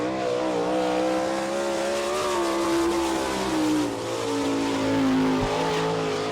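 Sprint car of Kelly Kinzer from Bloomington, Indiana, the Kinzer Timber Franklin Power Products 4K, roars loud and close at Attica dirt track as it takes the green flag, engine pitch climbing steadily through the run.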